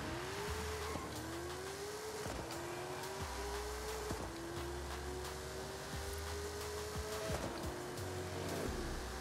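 A 1,750 hp twin-turbo anti-lag Jeep Grand Cherokee SRT on big drag tires launches in Forza Horizon 5. The engine rises steadily in pitch through several gear shifts, with tire squeal and a continuous roar.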